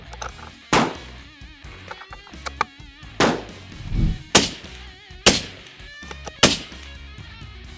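Rifle shots fired at a 1,000-yard target ring out as several sharp, loud reports spaced a second or two apart, each with a short echoing tail, and no talk in between.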